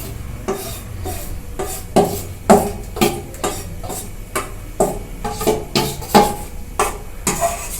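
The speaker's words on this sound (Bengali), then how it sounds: "তেলটা গরম হয়ে গেছে, আমি এতে এই ডালের পেস্টটা দিয়ে দিচ্ছি।" Masoor lentil paste is scraped and stirred through about two tablespoons of hot mustard oil in a kadai. Repeated spatula strokes come in a steady rhythm over a low frying hiss, close by, with no talking.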